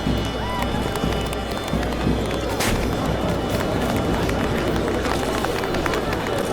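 A huge crowd gathered for a circus performance in the Witcher 4 tech demo, a video game, forms a dense continuous roar of babble and movement, loud and unbroken throughout.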